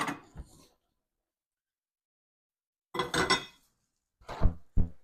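A few sharp ceramic clinks and knocks, like a plate being picked up and set down, separated by a stretch of near silence.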